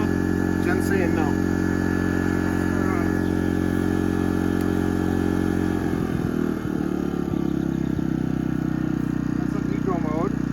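A new portable generator running in eco mode at a boondocking campsite, a steady low engine drone that holds constant throughout, with faint voices talking over it.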